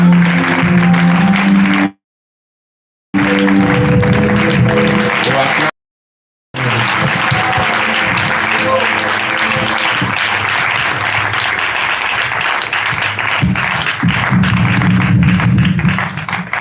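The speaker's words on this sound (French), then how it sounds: "Est-ce que tu peux acclamer le Seigneur Jésus-Christ?" A church congregation applauding during a Pentecost jubilee service, sustained loud clapping with crowd noise and music-like tones, broken by two brief silent gaps, with voices mixed in.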